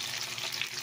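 Siomai dumplings fry in a pan with a soft, steady sizzle and faint crackle, close but fairly quiet, with no talking.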